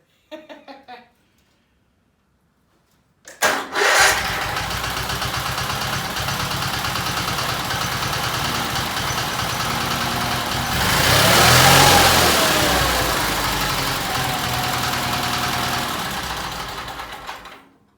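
A brief starter crank, a pause, then a Case 446 lawn tractor engine catches and runs loudly, revving up midway before settling into a steady buzzing idle.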